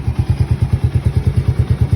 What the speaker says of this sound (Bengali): আপনারা ইঞ্জিনের সাউন্ডটা শুনেন